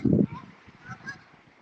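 A goose gives one loud, close honk followed by fainter calls from other geese at a waterside spot on a nature walk.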